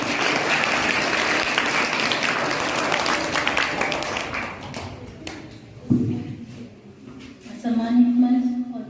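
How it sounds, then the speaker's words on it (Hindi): A crowd of students and teachers at a pre-exam motivational seminar in Jhothara claps vigorously, and the applause gradually fades as a voice begins speaking over a low hum. "सुमन जी के लिए जोरदार तालियां"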